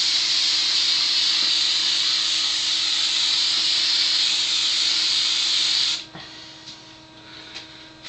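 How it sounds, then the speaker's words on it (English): Hairspray hisses in one long continuous burst sprayed onto a face for a second coat, loud and close, then cuts off abruptly, leaving a quiet room with faint rustles. "I'm going to do a second coat."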